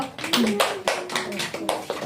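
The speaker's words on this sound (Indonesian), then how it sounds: "Beri tepuk tangan dulu." A classroom of students claps hands together, a burst of irregular, overlapping claps close by with some children's voices mixed in.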